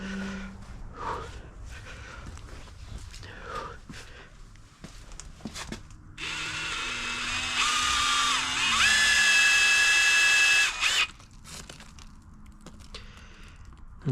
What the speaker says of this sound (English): I got to drill through this side, or cut this side off